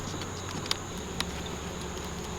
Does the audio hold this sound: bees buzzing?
yes